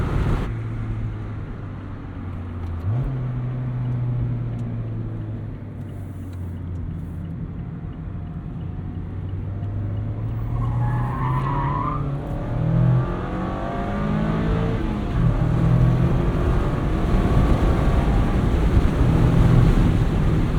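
A 2024 Mazda MX-5 Miata ND3 cruising on a highway at 70 mph, just under 3,000 RPM: a steady low engine drone with constant road and wind roar, loud and continuous throughout.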